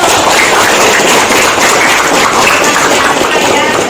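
A classroom of students applauding, a dense, loud and continuous burst of clapping that holds steady for a few seconds, close and filling the room.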